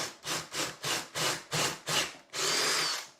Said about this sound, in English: I've got my battery drill.